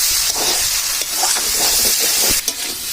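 Fish and bitter gourd crackle and sizzle in a hot pan, a loud close hiss with brief stirring scrapes.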